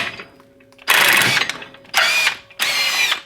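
Ratchet working a bolt loose on a Polaris RZR XP1000/XP900 clutch, short bursts of rapid mechanical clicking in three close, loud spurts separated by brief pauses.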